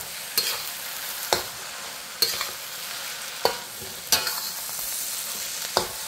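Bean sprouts stirred into chicken pad thai frying in a hot pan: a steady sizzle broken by about six sharp scraping and clanking strokes of the utensil, close and evenly spaced, with no voices.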